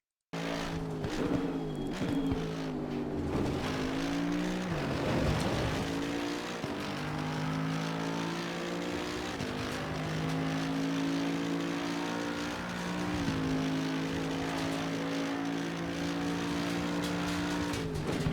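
A Mercedes-AMG EVO GT3 race car lapping Snetterton Circuit in Assetto Corsa Competizione, its engine rising and falling through gear changes, with whining revs, downshift blips and hard acceleration, loud and continuous with no talk.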